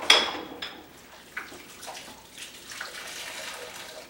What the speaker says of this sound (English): But you also should wring out as much water.